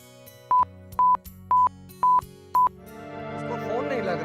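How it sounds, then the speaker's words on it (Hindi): An outgoing telephone call gives five short, evenly spaced beeps at a steady tone, about half a second apart, loud and clear, before music swells in underneath. "कॉल जा रहा है।"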